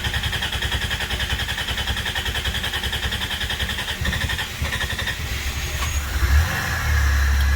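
A 1990 Dodge Grand Caravan engine sputtering to life: a rough, pulsing idle with uneven firing, then a deeper rumble as it catches and settles. Close, loud, no talking.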